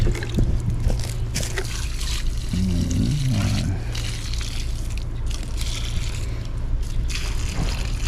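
Water trickles and splashes steadily onto plants in a garden bed, a continuous close wet patter with a low background hum throughout.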